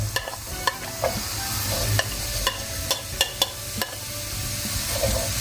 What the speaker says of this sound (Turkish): Soğanlarımı bir soteleyeceğim, bir kavuracağım.